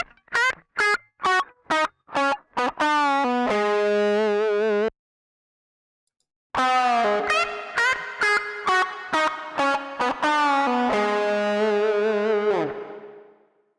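Electric guitar solo through an amp plugin with reverb: a run of short, sharp plucked notes, a brief pause, then longer sustained bending notes that ring out and fade into a reverb tail, with no talking.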